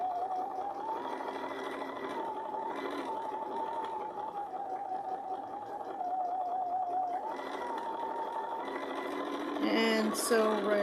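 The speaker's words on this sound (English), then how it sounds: "And sew right off the edge and then cut." Sewing machine running steadily on a toweling stocking, its motor hum holding a sustained whining tone through most of the stretch with brief pauses and a louder burst near the end.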